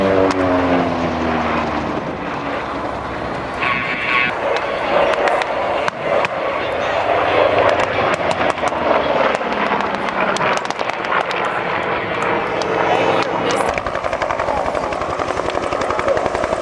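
An OV-1 Mohawk observation aircraft dives past at an airshow, its propeller engine roar loud and continuous, swelling and fading under crowd noise and announcer talk.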